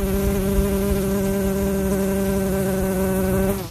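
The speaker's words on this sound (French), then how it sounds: "Il s'agit d'Euglossa, un genre d'abeille spécialisée dans la pollinisation des orchidées." Euglossa orchid bees of Central and South America buzzing close and loud, a steady droning hum holding for several seconds before fading out near the end.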